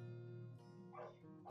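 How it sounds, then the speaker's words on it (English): A dog barks outside during home crafting, a muffled yip and a whimpering bark carried from a distance over a steady low hum of the room. "I'm really sorry about the dog barking"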